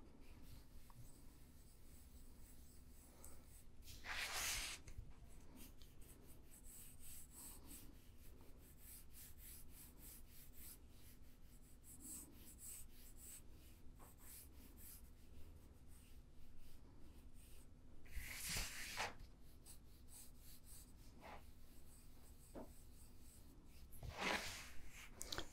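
A pencil draws ellipses on paper, giving soft, faint scratching and rubbing strokes. A few brief, louder sweeps stand out against a quiet background.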